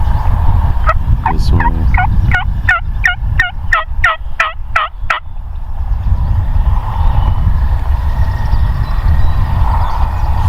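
Three wild turkey toms gobble in rapid, repeated bursts at mid distance during a Wisconsin spring hunt, then quieter ambient noise follows; a person speaks briefly.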